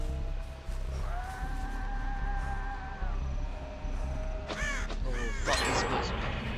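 Harsh crow caws in the video game Dead by Daylight ring out repeatedly over a steady low background hum, a few drawn-out calls followed by a cluster of louder, sharper caws.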